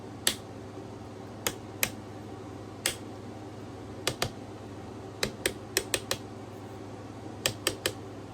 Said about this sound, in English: Turret is also articulating. It's got ratcheting joints.